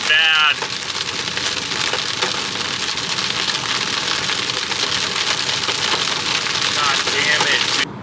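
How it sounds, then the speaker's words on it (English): Hail drums hard and continuously on a car while driving, a dense loud rattle of impacts on the roof and glass, with brief voice sounds at the start and near the end. "Oh no, it's hailing."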